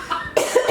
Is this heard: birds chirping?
no